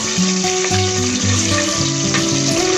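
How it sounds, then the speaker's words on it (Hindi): Potatoes frying in hot oil for a Hyderabadi chicken korma, a dense continuous sizzle with occasional stirring scrapes and faint tonal hum behind it, close and steady. "अब इसमें हम आलू डालकर फ्राई करेंगे।"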